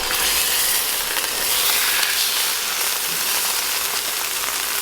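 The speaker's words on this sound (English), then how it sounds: "We need this heat to get browning on the meat." Steak searing in a very hot, smoking pan gives a steady, loud broadband sizzle and hiss that runs unbroken for the whole stretch, with no voices over it.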